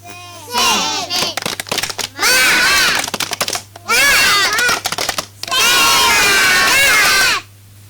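Kindergarten children at a school chant loudly together and clap in rhythm, with bursts of sharp, steady claps in several long rounds broken by short pauses.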